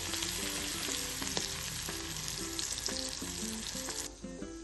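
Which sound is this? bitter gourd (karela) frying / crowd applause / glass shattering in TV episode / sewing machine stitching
bitter gourd (karela) frying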